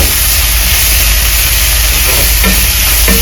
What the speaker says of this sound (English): Once it's hot, we'll add in the onions. 3 medium onions, roughly chopped.